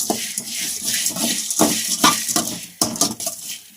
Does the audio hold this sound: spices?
yes